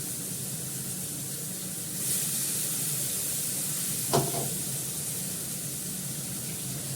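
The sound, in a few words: rinsing with a little water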